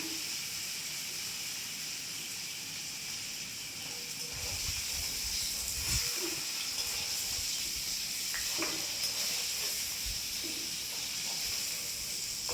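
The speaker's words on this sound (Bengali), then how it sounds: "দেখুন আলুটাকেও ভেজে নিলাম" Potato pieces frying in hot oil give a steady, loud hissing sizzle throughout, with a few faint knocks in the pan and no talk.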